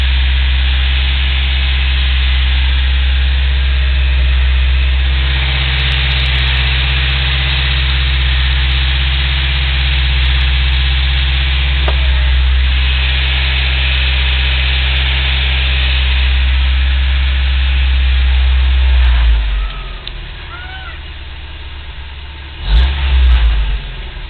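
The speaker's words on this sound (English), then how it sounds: "At 1500 or so, I started to feel this vibration in my foot in the gas pedal." Steady idling car engine drone with a deep, rough low-end hum and constant vibration, close up, fading out near the end with a brief rev.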